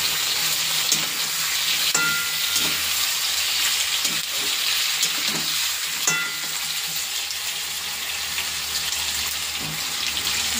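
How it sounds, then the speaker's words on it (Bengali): Plantain pieces fry lightly in oil in a pan with a little turmeric, producing a steady, moderate sizzle with scattered spatula clicks and scrapes throughout, and no talking. "কলাটা দিয়ে দেবো এখন, একটু ভাজা করে নেবো, হালকা ভাজবো"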